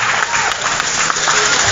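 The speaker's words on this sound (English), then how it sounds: "can y'all give a round of applause for Jessica Calvin" A crowd at a job corps center signing day applauds and cheers, with dense, steady clapping up close throughout.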